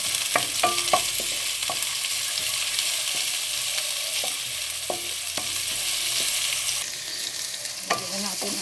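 Onion sautés in a pan with a constant nearby sizzle punctuated by repeated clinks and scrapes of a spatula, with no one talking.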